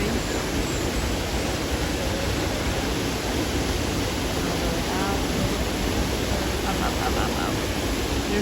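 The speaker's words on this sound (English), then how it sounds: "We made it to a little viewing platform where there's a huge waterfall." Constant loud rushing roar of a huge waterfall in a Costa Rica cloud forest, heard from a viewing platform, with faint bird chirps slipping through the dense water noise.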